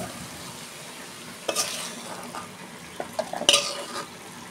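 Cooked greens stir-fry is scraped and tipped out of a pan over a faint sizzle, with a few sharp metal scrapes and knocks near the end, close, with no voices.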